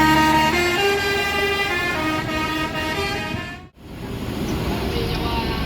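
A PO Pangeran bus pulls out of a terminal bound for Jakarta, its horn sounding a loud, sustained multi-tone melody over the idling diesel rumble, broken by a brief dip before the tune resumes.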